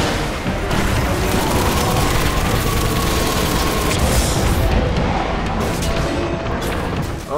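Dense gunfire in the Destiny video game pounds continuously for several seconds, a heavy wash of shots and booming blasts with no pause.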